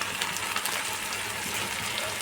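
Spices, chopped tomato and green chilli fry in hot oil for a fish curry, producing a dense, continuous sizzle up close with faint scraping, and no voices.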